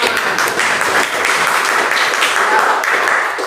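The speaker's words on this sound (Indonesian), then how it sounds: "Kita memberikan tepuk tangan buat mereka" Loud close applause from a seminar audience for participants, a dense burst of clapping lasting the full few seconds without pause.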